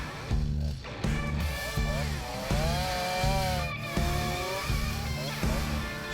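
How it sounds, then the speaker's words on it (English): A chainsaw works through wood along an overgrown narrow lane, its engine droning loud and close in repeated bursts with revving pitch swings across the whole stretch. "So, quite a bit of work to do here with the chainsaw."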